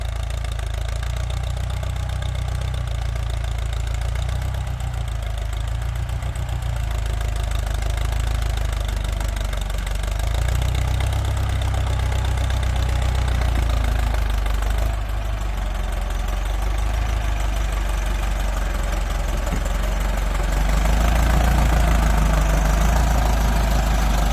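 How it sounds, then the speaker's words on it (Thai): A Ford 6640 tractor engine idles at low revs, a steady deep rumble with faint knocking, close and continuous, with no talk over it. "ฟังเสียงเลยครับ รอบเครื่องต่ำๆนะพี่น้อง"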